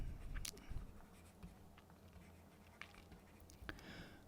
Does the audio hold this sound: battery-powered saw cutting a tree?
no